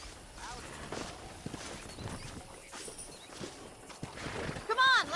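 Horse hooves in Red Dead Redemption clip-clop at a walking pace under background talk, and a horse whinnies loudly near the end.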